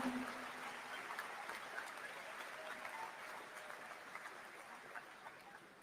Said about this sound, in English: All of our alums in the audience, let's give them a big round of applause